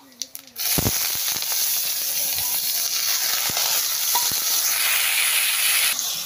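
Brinjal pieces go into hot oil already seasoned with dried red chilli and black cumin, setting off a loud, sustained sizzling hiss after a few clinks of utensils.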